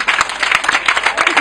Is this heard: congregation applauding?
yes